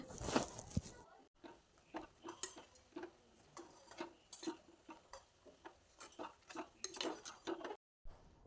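A vegetable kajipu is stirred and mixed in a pot with a metal spoon, giving quiet, irregular clinks and scrapes against the vessel, close by. There are brief pauses between strokes and a short silent gap.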